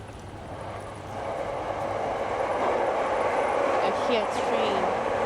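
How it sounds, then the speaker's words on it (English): A Yamanote Line train rumbles past near Ebisu Station in Tokyo, its steady roar swelling louder and closer as it runs along the track, with voices underneath. "Here train. Yamanote."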